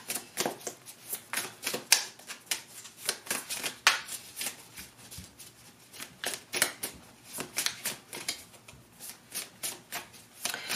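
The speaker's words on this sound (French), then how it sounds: "Et je vous montre les cartes." Tarot cards are shuffled and handled up close, with repeated quick riffling bursts and soft slaps of card stock in an irregular rhythm.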